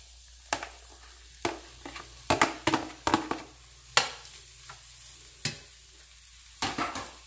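Cooked rice being stirred into a hot frying pan for shrimp fried rice makes a series of sharp scraping and tossing strokes, about a dozen irregular hits over a low sizzle, close and clear with no talking.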